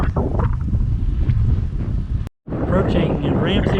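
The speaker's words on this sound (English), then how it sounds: "Wind is coming from my right front quarter." Strong wind buffets the microphone during a road bike ride on a trail, a loud continuous low rumble with one brief dropout, and a voice faintly present beneath it.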